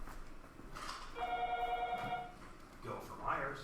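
A telephone rings faintly once or twice in a classroom over steady background chatter. The ring is a soft trilling tone that lasts about a second.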